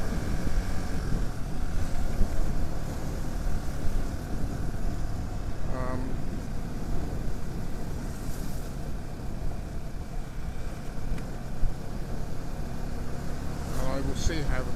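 Motorbike on the open road heading toward Besançon, with a steady loud engine drone and wind rush throughout, continuous and close, with occasional faint tonal whines over the rumble.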